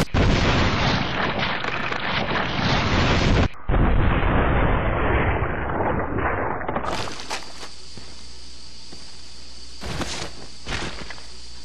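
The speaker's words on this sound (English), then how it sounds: "I'm going to take it to a few zombies' heads for the awesome explosive headshot" Magnum revolver fire in the Resident Evil Zero HD Remaster game blasting zombie heads: loud, dense booming bursts fill the first seven seconds with a short break, followed by quieter game ambience and a couple of softer thumps.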